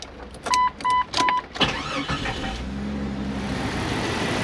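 Jeep engine: three short chime beeps from the dash, then the starter cranks briefly and the engine catches and settles into a steady, low idle, close by.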